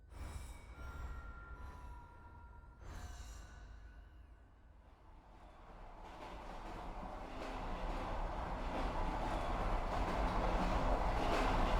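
A train rolling in the game Chernobylite, a low rumbling that builds steadily into a loud, broad, continuous roar after a few faint tonal swells.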